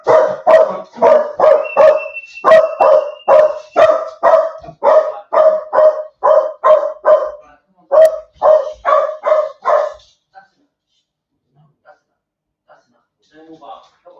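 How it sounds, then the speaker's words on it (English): A dog barks loudly and close by in a long run of about a dozen sharp, evenly spaced barks, then falls quiet with only faint sounds at the end. "should I forgive the dog for barking his head off?"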